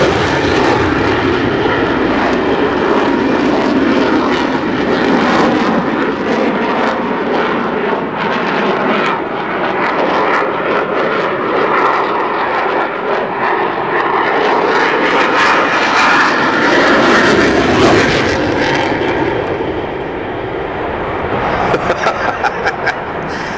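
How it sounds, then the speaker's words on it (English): A Royal Air Force Eurofighter Typhoon jet roars through an airshow display, its loud engine noise swelling and sweeping past, then fading with a brief rattling tail. "From the Royal Air Force, Flight Lieutenant Jim Walls in the Typhoon"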